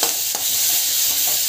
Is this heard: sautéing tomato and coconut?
yes